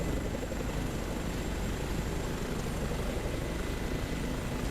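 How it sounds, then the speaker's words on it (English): A Chinook helicopter in the Microsoft Flight Simulator game gives a steady, dense rotor and engine roar at moderate distance, unbroken throughout with no voices. "You can hear that Chinook."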